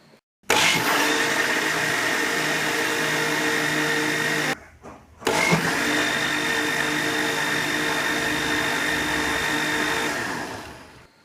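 Mixer grinder jar whirring loudly as it beats chilled homemade curd, a steady motor drone that cuts out briefly for under a second and then starts up again before fading at the end.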